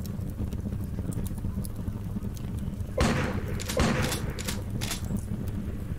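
Shotgun blasts in the video game Underrail, two heavy booming shots about a second apart over a steady droning background, no talking.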